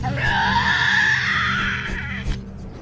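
A Tasmanian devil in a wild forest lets out a loud, harsh, drawn-out scream lasting about two seconds, close and piercing, trailing off into quieter rasping.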